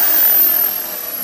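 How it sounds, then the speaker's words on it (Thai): A power drill bores into the body of a Honda ADV150 motorcycle scooter to fit a logo light, a steady high whine close up for about a second, with no talk. "นี่ค่ะเราเจาะกันจริงๆเลยอ่ะ"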